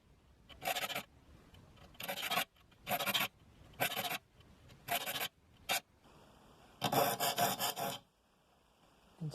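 A file rasps across handsaw teeth during re-toothing and sharpening, about five short, evenly spaced strokes followed by a quicker burst of scraping. The sound is close and fairly quiet, with no speech.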